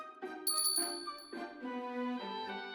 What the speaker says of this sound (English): I pick up the table bell and give it a ring.